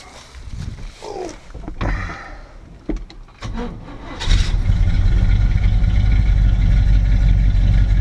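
A 1972 Chevy engine cranks in short bursts, sputters a few times, then catches and settles into a loud, steady idle with a deep, continuous rumble.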